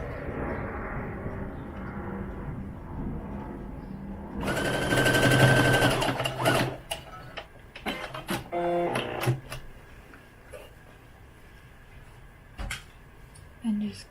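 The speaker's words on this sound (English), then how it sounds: "I'm going to be sewing it on about 1/2 inch from the bottom" A sewing machine stitches lace onto a doll's undergarment in a short, fast whirring burst partway through, with mechanical clicks and handling noises afterward.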